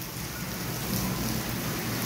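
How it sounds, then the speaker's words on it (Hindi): Steady rain pours down outside, a dense, continuous hiss with a low rumble underneath, like a storm heard from indoors. "बाहर तूफान है, ओए तूफान है।"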